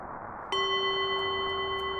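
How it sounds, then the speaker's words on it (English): A small notification chime rings out during a Zelda: A Link to the Past randomizer game stream, a sudden bright ding that sustains as a steady ringing tone over a soft background hiss. "Did you hear that little bell?"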